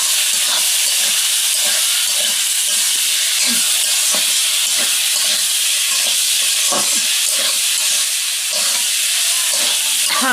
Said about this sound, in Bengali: এই যে আমি পুঁই শাক ভাজি করছি তেল হয়ে গেছে